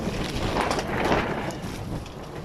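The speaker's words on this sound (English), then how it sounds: "So it's warm but windy today, as you can hear" Wind blowing on a warm, windy day, a continuous broadband rush buffeting the microphone with gentle surges, no voices.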